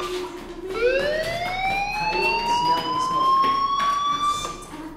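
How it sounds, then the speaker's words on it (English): A fire alarm in the video game Life is Strange wails with a rising, steady electronic tone that sweeps upward and holds, loud and continuous over faint background game ambience, with no speech. "Hey, do you hear that fire alarm?"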